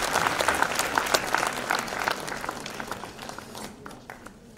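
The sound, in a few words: big round of audience applause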